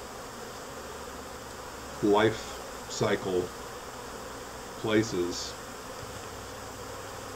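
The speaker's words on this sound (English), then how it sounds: "These bees that come in the package are a mix of nurse bees and foragers and guards" Honey bees from a shipped bee package, a mix of nurse bees, foragers and guards, buzzing as a steady low drone, with someone speaking in short bursts over it.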